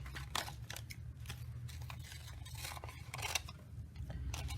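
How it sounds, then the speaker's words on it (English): Scissors snip through stacked layers of freezer paper in a series of quick, crisp cuts, close and fairly quiet over a low background hum. "Then you're going to cut several pieces of freezer paper to stack on top of each other."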